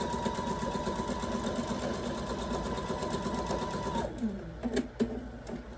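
Sewing machine stitching fabric, a fast, steady mechanical whir up close for about four seconds, then it stops, leaving faint handling clicks and rustles.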